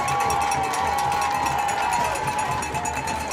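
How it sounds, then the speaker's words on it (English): High school football fans on a Halloween night at Fairview, hosting Fredericktown, cheering in a loud continuous roar, with what may be cowbells or horns ringing through the din. "just listen to these fans"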